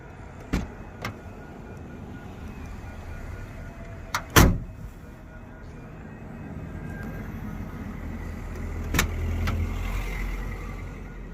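A single heavy door slam of a 1992 Galloper stands out among a few lighter clicks and knocks, set against a low steady outdoor rumble.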